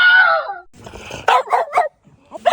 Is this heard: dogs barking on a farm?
yes